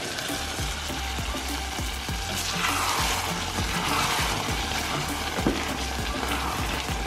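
Tomatoes cooking in a pan on medium heat give a steady, close sizzle and crackle with soft pops throughout, no talking.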